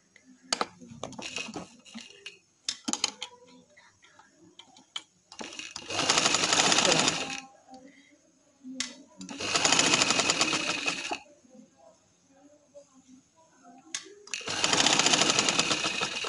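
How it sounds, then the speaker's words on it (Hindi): A sewing machine stitches a kameez seam in three loud, steady bursts of a couple of seconds each, with quieter clicks and handling sounds between the runs. "ऐसे रखते जाएंगे आप तो सिलाई लगाते जाएंगे"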